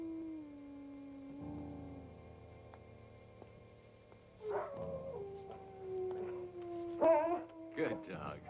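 A dog in an old 1961 horror film gives drawn-out howling and whimpering cries with a few short barks, moderately loud against a steady hum, before a voice speaks near the end.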